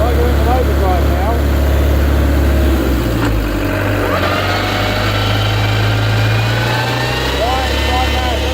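A car engine runs steadily in overdrive gear, a continuous low drone that holds loud throughout with a brief dip near the end, while people talk over it.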